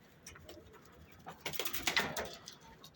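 Soft cooing of Van pigeons close by, several overlapping low calls building over a few seconds against faint background noise.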